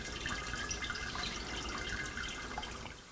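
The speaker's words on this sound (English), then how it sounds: "Doing it sort of gently, sort of slowly, so the water has a chance to go through the grains, not around them." Hot water poured gently and slowly over grains in a home-brewing mini mash, a soft continuous trickle with faint dripping, quiet and close.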